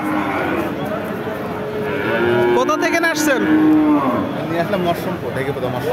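A large local-breed cow lets out a loud, drawn-out moo close by at a cattle market, while people talk and chatter in the background.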